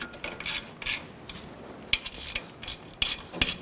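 A hand ratchet snugs catalytic converter bolts on a Honda Accord, making short bursts of quick metallic clicking, fairly close and quiet, in an irregular rhythm of about eight strokes.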